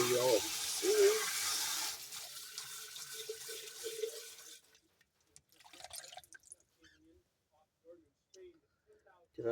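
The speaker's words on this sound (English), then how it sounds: "So I'll just rinse this jar out" Water running from a tap into a glass jar as it is rinsed out at a garden workspace, a splashing gush for a few seconds that stops, followed by faint drips and light handling clinks.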